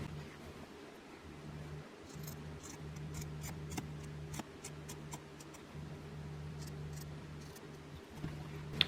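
Scissors trimming the fabric seam allowance of a French seam down to about half a centimetre, a string of crisp separate snips at an uneven pace, close but quiet over a low steady hum, with no talking.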